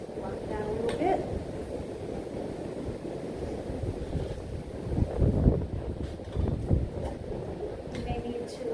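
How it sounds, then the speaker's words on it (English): Wind gusts buffet a trail shelter along the Appalachian Trail, a steady low rumble of wind noise swelling in louder gusts around the middle, with a person speaking over it. "Goes the wind on the Pangea."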